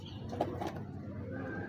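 A male Teddy breeder pigeon gives a soft, brief coo, a couple of low throaty pulses close by against a quiet background.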